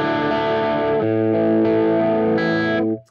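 Electric guitar played through an MXR Tremolo pedal on its clean setting: a few sustained, bright strummed chords ring loudly for about three seconds, changing twice, then cut off.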